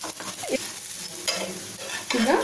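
Akki rotti, a Karnataka rice flatbread, roasting on a pan, with a constant soft sizzle and a few scraping or pressing strokes, close and moderate in level, without speech.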